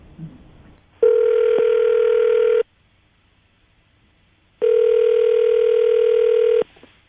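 A telephone dial tone sounds in two steady, loud bursts of about a second and a half and two seconds, split by a pause of near silence, as a call to Danielle connects.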